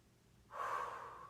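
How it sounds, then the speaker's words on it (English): One deep breath taken during a resistance-band stretching workout, a soft breathy inhale that swells halfway through and fades slowly, close and quiet with no talk. "Nice deep breathing."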